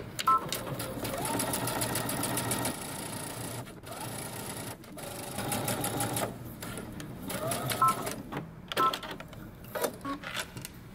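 A home sewing machine stitches along the seam allowance of a pair of pants for a jumper, running in steady bursts with short pauses and close to the microphone.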